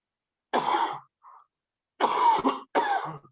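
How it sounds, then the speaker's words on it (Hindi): A person coughs during a yoga breathing session: a harsh cough, a tiny throat sound, then two more rough coughs in quick succession, close and clear with no talking. "मुझे थोड़ा खांसी हो रही है।"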